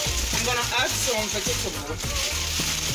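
Mixed vegetables hit a hot pan for jollof rice, a moderate crackling sizzle with some sloshing and stirring, while someone speaks over it.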